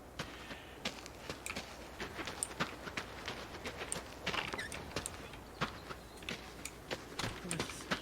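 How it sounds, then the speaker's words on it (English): Horse hooves clip-clop in the video game Adios, a steady run of sharp, fairly faint clacks in an even walking rhythm over a quiet background. "Horse."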